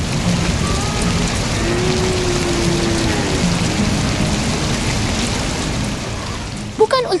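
Steady, dense rain pours down loud and continuous, with a low rumble underneath and a few sharper sounds near the end.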